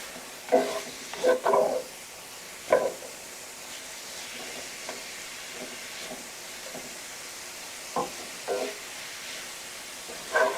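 Ground meat and peppers stir and sizzle in a pot of chili, a steady close hiss and frying crackle broken by several scraping stirs, with no talking.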